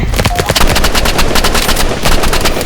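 Rapid machine-gun fire in the video game Rival, a loud unbroken stream of automatic shots throughout, with a voice faintly mixed in.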